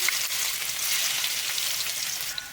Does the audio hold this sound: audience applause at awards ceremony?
no